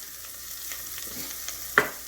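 Flour is sprinkled and stirred into chicken and sausage frying in a pot for etouffee: a soft, continuous sizzle with light scraping strokes, ending in one sharp utensil clack.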